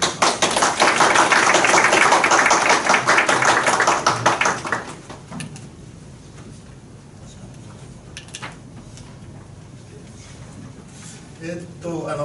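A seated audience at a Waseda University e-Teaching Award lecture claps to welcome the lecturer. Dense, steady crowd clapping fills the first five seconds and then stops abruptly, leaving a quiet room hum.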